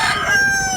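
Rooster crowing in Consolacion, Cebu: a short, loud, close crow of under a second, heard alone.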